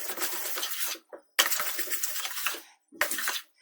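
A spoon works pakoda batter with a pinch of soda powder in a bowl, giving three short bursts of scraping and clinking against the bowl's sides, separated by brief pauses.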